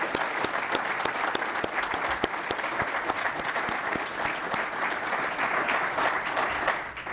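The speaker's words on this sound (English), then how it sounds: "give our co-chairs and this amazing team of fellows a round of applause" An audience at a public leadership presentation breaks into steady, sustained applause for the co-chairs and fellows, many hands clapping evenly throughout with a few sharper claps standing out and almost no voices.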